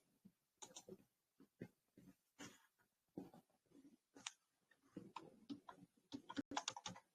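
Quiet, close computer keyboard typing in short irregular bursts of clicks and taps, separated by brief pauses, with no talking over it.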